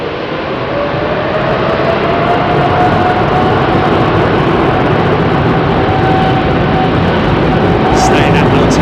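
A Japan Airlines 767 jet roars steadily during its departure from runway 27R at London Heathrow, a loud continuous broadband rumble that holds throughout with a faint tonal whine.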